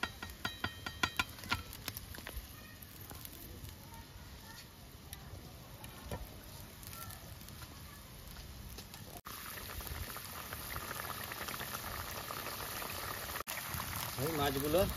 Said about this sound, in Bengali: ঝোলটা ফুটে উঠেছে, আমি আলুটা দিয়ে দেবো।